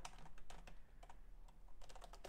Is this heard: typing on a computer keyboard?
yes